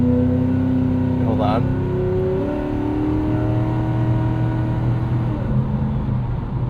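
A 2003 Mercury Marauder's V8 revs high, a steady loud engine drone with shifting tones, heard from inside the car under a brief spoken remark.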